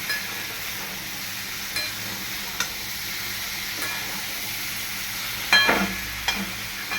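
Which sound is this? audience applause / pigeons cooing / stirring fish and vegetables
stirring fish and vegetables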